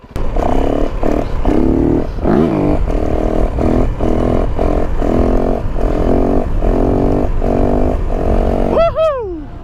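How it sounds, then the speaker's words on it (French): A 450 dirt motorcycle revs hard and steadily through a wheelie, its loud throbbing engine note pulsing in short surges before a final rising, then falling whine near the end. "Très franchement, cette moto, de toutes celles que j'ai pu essayer et de toutes celles que j'ai pu avoir, c'est de loin"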